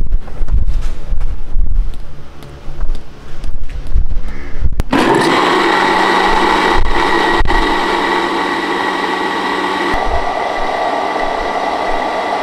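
A kitchen blender whirs loudly as it mixes homemade mayonnaise, starting after a few seconds of clattering handling noise and then holding a steady, close, continuous drone.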